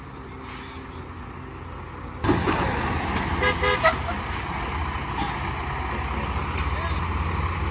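A car stuck off the road is pulled free while it is being loaded, with steady vehicle engine rumble, a sudden louder surge partway through, and people talking over it.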